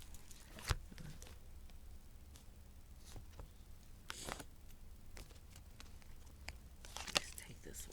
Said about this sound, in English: You hear me shuffling.